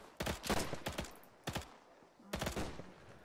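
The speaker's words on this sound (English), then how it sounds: "Go, shoot. Suppressive fire." Bursts of close suppressive gunfire in an Arma 3 World War II battle, several rapid volleys of sharp loud shots separated by brief pauses.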